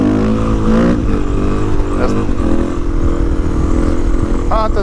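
A Suzuki DR-Z400E supermoto fitted with 13-47 chain gearing accelerates hard, its single-cylinder engine loud and close as the revs climb and drop through gear changes.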